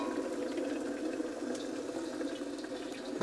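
Freshly boiled water pours in a steady, continuous rush of splashing liquid, moderately quiet and unbroken, with no voices.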